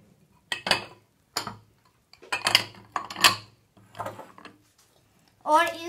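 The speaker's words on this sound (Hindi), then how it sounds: "और अब मैं इन सारे बर्तनों को 1 साइड पे डाल देता हूं।" Kitchen utensils and dishes are moved aside while a Russian salad is prepared, a series of close clinks and clattering knocks in irregular bursts with pauses between.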